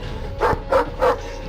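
A Rottweiler barks three times in a quick evenly spaced run, loud and close, each bark short and gruff with no voices over it.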